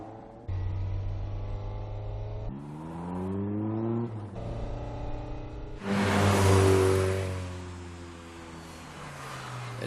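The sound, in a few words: Toyota AE86 car engine accelerating, film scene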